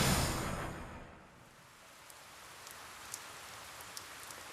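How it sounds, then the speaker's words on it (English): Steady rain falls in the video game 428: Shibuya Scramble, a soft, even hiss with scattered faint drip ticks, swelling briefly at the start before settling into a quiet, constant patter. "The rain won't let up."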